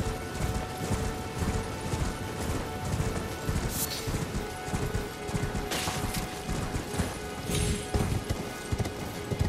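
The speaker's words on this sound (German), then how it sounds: "Schwingen wir uns mal auf unser Pferdchen." Horse galloping in the Elden Ring video game, a steady rapid clip-clop of hooves that runs loud and continuous with occasional clanks and crashes layered over the rhythm.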